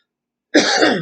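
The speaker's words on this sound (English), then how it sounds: "sorry about the cough" A single harsh, throaty burst starts abruptly and rasps on for about half a second, close and fairly loud, like a cough or throat clearing.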